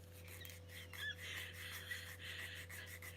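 A nail file rasps steadily over fingernails in close, continuous back-and-forth strokes, soft and even over a low steady hum, with no voices.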